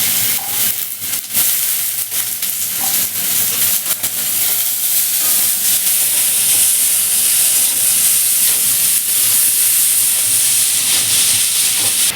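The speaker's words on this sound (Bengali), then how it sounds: "পেঁয়াজ আর রসুনটা তেলে দিয়ে দিয়েছে" Onion, garlic and capsicum sizzle in hot oil in a home kitchen with a loud, steady hiss and crackle, close up, broken by a few clanks of stirring, with no talking.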